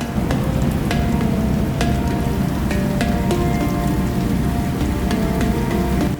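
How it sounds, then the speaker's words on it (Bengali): Heavy rain pours onto the open water of Tanguar Haor wetland lake, heard from a boat as a loud, dense, steady patter with scattered distinct drops, without any voices. "জলের উপর বৃষ্টির টুপটাপ শব্দ"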